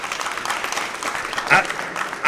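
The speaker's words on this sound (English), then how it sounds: "Give yourself a round of applause." Audience at a sports banquet keynote claps in a moderate, fairly even patter of many hands, heard at some distance with a couple of louder bursts and talk mixed in.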